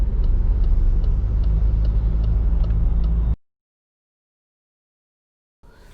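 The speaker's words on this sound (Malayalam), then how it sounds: "നമ്മൾ MG ഗ്ലോസ്റ്റർ ഓടിക്കുകയാണ്." An MG Gloster twin-turbo diesel automatic SUV on a test drive gives a steady low engine drone and road rumble for about three seconds, then goes silent before the noise briefly returns.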